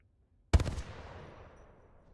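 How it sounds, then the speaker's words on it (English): A single sharp burst from the Hemlock burst assault rifle in Apex Legends, a tight cluster of rapid shots cracking out after silence, then a long reverberant tail fading away. "Now we can do the same for Hemlock as well"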